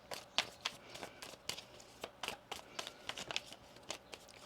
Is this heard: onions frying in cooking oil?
no